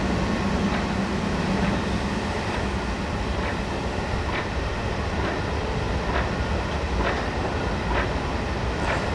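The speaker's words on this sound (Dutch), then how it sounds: "er komt nog een goederentrein tussendoor" A freight train rolls past in Train Simulator 2015, a steady loud rumble with rhythmic clickety-clack wheel beats repeating throughout, close by and continuous with no talk.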